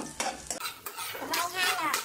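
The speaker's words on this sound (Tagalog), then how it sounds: "Tapos saka natin lalagay ngayon yung sibuyas." Onions going into a pan for papaitang baka (Filipino beef bile stew), stirred with a utensil that clinks and scrapes against the metal, with a light sizzle building underneath over about two seconds.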